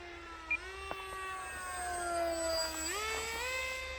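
A foam-board RC Powers MiG-29 model plane on a 4S battery whines through its motor steadily, the pitch climbing toward the end as it powers up, with a couple of sharp clicks early on.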